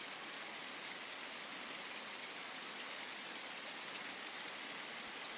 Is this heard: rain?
yes